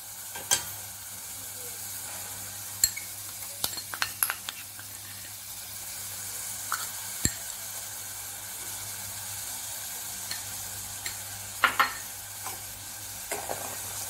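Herbs and triphala crackling in hot oil for a homemade hair oil, a faint steady hiss broken by scattered sharp pops and clicks while a spoon stirs now and then, with no voices.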